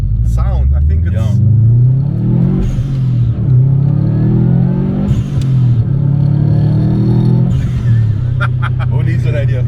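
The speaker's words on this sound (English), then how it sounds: "the best part about the Subaru is this sound" A 300 kW Subaru WRX STi's flat-four rumbles loud and close from inside the car, rising and falling through several revs and gear changes, with a voice talking over it.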